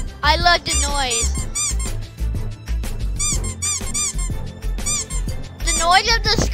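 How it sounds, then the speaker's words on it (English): Squeaky bee creature in the video game Adventure Pals, giving repeated high chirping squeaks in bursts over game music, loud and close, with a voice heard at times. "The noise of the squeaky bee."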